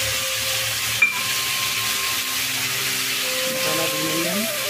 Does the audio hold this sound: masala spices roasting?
yes